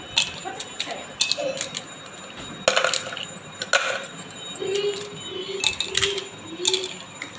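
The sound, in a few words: ice cubes dropped into glasses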